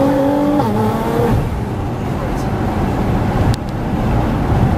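A 900 BHP Nissan GT-R accelerates hard up close, a loud continuous engine roar with rising harmonic tones early on, then a dense, steady drone with a brief dip near the end.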